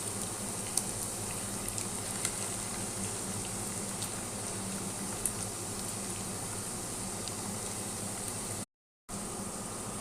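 Chicken balls deep frying in hot oil, a steady dense bubbling hiss that runs continuously with a brief dropout near the end, no voices.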